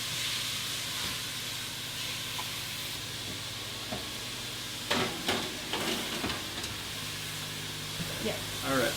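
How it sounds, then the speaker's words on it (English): Ground beef for a gnocchi Bolognese sizzles and fries in a pan as the fat and moisture cook off, a steady hiss broken by occasional scraping and stirring clatter near the end. "here we're cooking off our ground beef, getting all that fat out and all the moisture"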